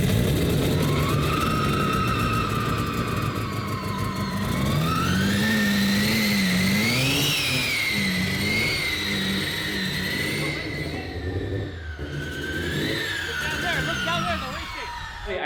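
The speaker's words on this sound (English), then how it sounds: "I'm going to fire it up and let it idle for a little bit" Mazda RX-7 FC rotary engine, run again after sitting for 15 years, starts and idles loud and close, its note rising and falling with throttle blips and settling back toward idle.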